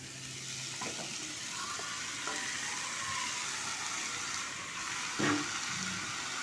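Chicken pieces go into a spice paste frying in a pan for chicken curry, giving a steady close sizzle that swells in a brief louder burst near the end, with no talking.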